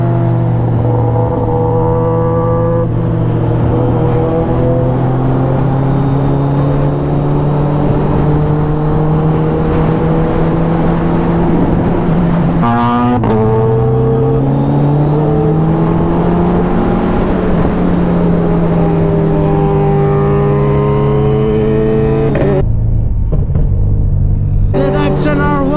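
Kawasaki ZX10R and Suzuki Hayabusa superbikes revving hard during a night ride, a loud, continuous engine roar whose pitch climbs and falls through repeated throttle blips, close by and filling the whole stretch.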